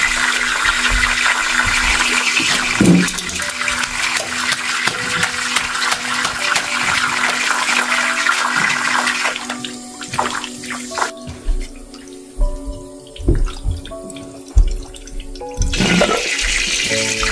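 Water drains from household plumbing during a pressure tank replacement, a loud rushing and gurgling flow that breaks up into sporadic sputters and drips before surging again.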